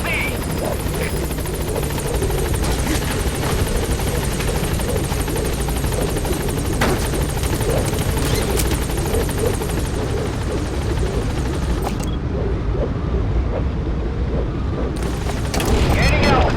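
Support helicopter lifting off in Metal Gear Solid V, a loud continuous rotor and engine roar close by, with booming game effects and radio voices over it.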